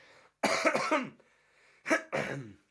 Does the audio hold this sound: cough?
yes